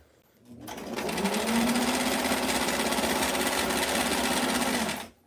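A sewing machine stitches a Barbie square dance dress at a longer setting of 8 stitches per inch, running as a steady, loud, continuous whir for about four seconds with no pauses and no talk.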